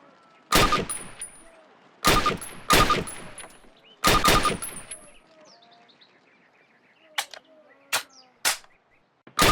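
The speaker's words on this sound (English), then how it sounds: "Approach the fence and fire 6 rounds at your target." Rifle shots fired at a target on a training range in Call of Duty, three loud close bursts of gunfire at two-second intervals, then a few sharper single cracks, with bird chirps in the quiet background.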